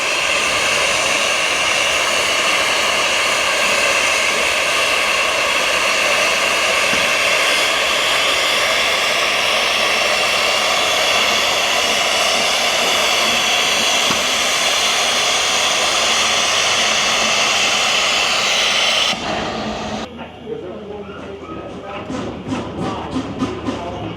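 A loud, steady mechanical whine and roar from an antique engine spinning up at an antique machinery show, filling the clip before cutting to quieter rattling and clattering.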